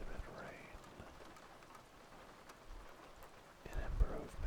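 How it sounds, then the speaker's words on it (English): Rain sounds hiss steadily behind close ASMR cardboard tapping, a soft continuous patter with scattered drops and a louder, thumping burst near the end. "I'm going to add in rain sounds right now."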